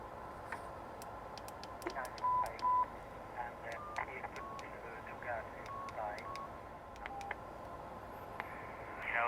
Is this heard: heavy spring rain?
no